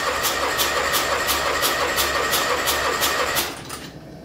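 A Kohler M18 engine from an Argo 8x8 is cranked over by the starter during a compression check, producing a steady rhythmic chug of about a dozen even compression pulses that stops abruptly near the end.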